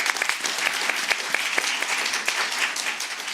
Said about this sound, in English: Maybe a round of applause again just for our presenters today